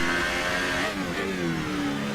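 A Formula 1 race car from F1 2018 revs hard through the Canadian street circuit, a steady high engine whine shifting pitch, ending in a sharp brief click.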